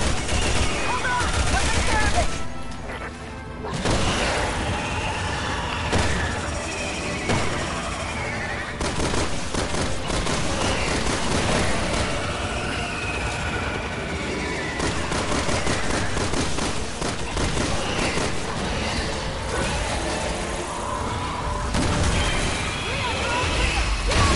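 Gunfire against enemies in Resident Evil 6, dense repeated shots and bursts crackling loudly throughout, mixed with game effects and under frequent excited talk.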